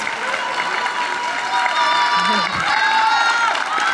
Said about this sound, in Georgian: მხურვალე აპლოდისმენტები ამ სამ არაჩვეულებრივ არტისტს